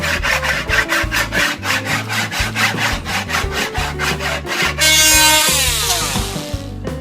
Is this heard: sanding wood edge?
yes